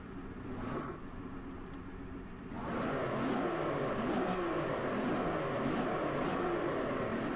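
An Aston Martin Vantage V12S engine in Driveclub on a Japan track: a steady drone that swells near the third second into loud, sustained revving with shifting tones. No talking.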